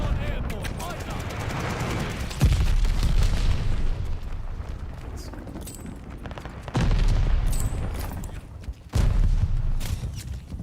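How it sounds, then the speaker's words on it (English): Glide bomb explosions in Call of Duty Vanguard multiplayer, a few loud booming blasts rising over steady gunfire and battle noise, with voices calling out now and then. "Enemy glide bomb incoming."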